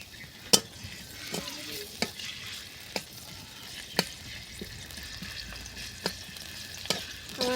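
Onion frying in oil, cooked village-style, hisses and sizzles steadily while a utensil scrapes and taps the pan in sharp, irregular strokes about once a second, close and without talk.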